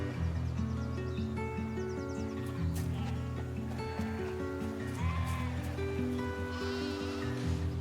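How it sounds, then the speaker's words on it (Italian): Sheep bleat over and over, loud and close, layered on top of each other and mixed with music in a video game trailer shown at Summer Game Fest 2023. "Pecore."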